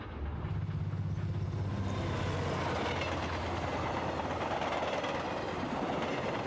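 A train rushes past in the video game Forgotton Anne, a loud, steady rumble with rattling carriage noise that holds at full volume throughout, a low droning hum underneath at the start.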